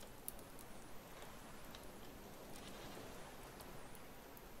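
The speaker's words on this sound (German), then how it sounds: "ich glaube, ich höre gerade eine Ziege" Goat bleating within the survival video game Raft, a few faint, distant bleats over a quiet hissing ambient background.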